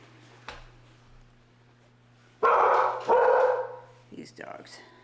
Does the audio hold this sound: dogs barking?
yes